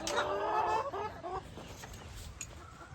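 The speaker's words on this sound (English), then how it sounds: "so at least I can let these chickens out" Chickens cluck and murmur close by, with a burst of clucking at the start trailing into softer calls and faint rustling.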